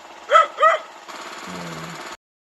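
Dogs at a house beside a road along a canal bark twice loudly and close, then a passing motorcycle engine drones for about a second before cutting off into silence.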